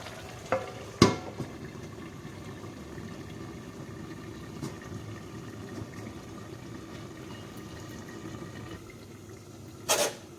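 Rohu fish with mixed winter vegetables cooks under a lid in a pan, giving a low steady simmering hiss throughout, with a couple of brief clanks near the start and a short sharp clatter near the end; no one speaks.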